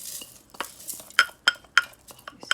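Dry-roasted spices and black peppercorns are tipped into a mixer grinder jar, giving a few sharp clinks and rattles as they hit the jar, then a short scrape, close and fairly quiet.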